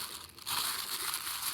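Tissue paper crinkles and rustles as it is wrapped around a mason jar, a brief close crumpling burst that grows louder after a soft start.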